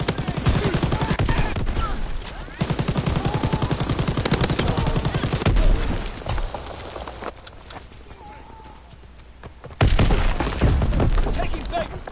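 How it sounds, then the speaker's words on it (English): Naval primary battery guns firing in a warship video game, rapid loud bursts of heavy gunfire with sharp cracks, a quieter lull in the middle, then another powerful blast, with speech over the action. "Firing primary battery."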